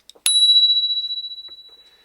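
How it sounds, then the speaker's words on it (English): A bicycle bell on the handlebar of a cheap Bodywel T16 Pro e-bike is rung once, a bright metallic ding that rings on and slowly decays over about two seconds, preceded by a couple of faint clicks, with no speech. "Oh, and it's also got a bell."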